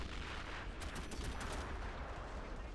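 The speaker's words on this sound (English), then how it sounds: "That was one hell of a barrage." Distant artillery and gun barrage in a WW1 trench warfare video game, a faint, dense, continuous rumble with rapid overlapping crackles of fire and no talk.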